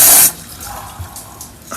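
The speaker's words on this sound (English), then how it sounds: "I think I hear water on the ground." A short burst of splashing water, then a soft, steady trickle and faint drips close by, as water leaks from a Pontiac car onto the ground.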